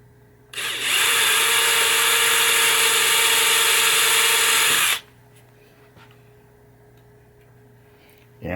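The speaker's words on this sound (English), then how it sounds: "as I'm drilling, I'm getting slower towards the end" A handheld power drill bores into a wooden pinball playfield for about four seconds, a loud, steady whine that stops abruptly, followed by quiet room noise and a faint hum.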